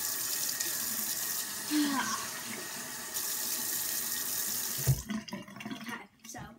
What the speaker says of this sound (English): So we're gonna get some water.